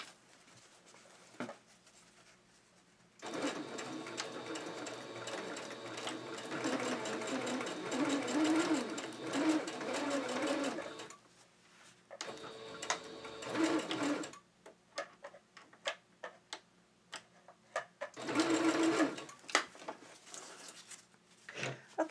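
A sewing machine stitching a doll's dress for a Marie Antoinette doll runs in several close, steady bursts of rapid mechanical whirring, separated by short pauses.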